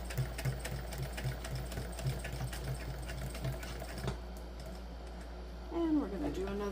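A sewing machine stitches a seam on a crossbody bag with quick, rhythmic needle clatter for several seconds, then stops as a voice speaks briefly near the end.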